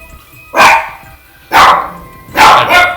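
A dog barks three times, each bark sharp and close, spaced roughly a second apart with quiet between them, the last bark doubled into a quick pair.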